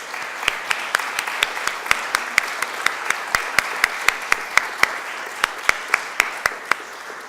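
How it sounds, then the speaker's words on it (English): An audience at a panel discussion on LGBT and women's rights in Europe applauds the speakers, a steady hiss of clapping punctuated by one sharp, evenly spaced clap repeating close by. "let us thank with a clap to our speakers"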